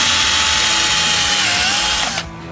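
A power drill bores pickguard screw holes with a 0.078-inch bit on a Gretsch 5120 guitar, a loud, steady whine near the mic that rises slightly in pitch before cutting off abruptly.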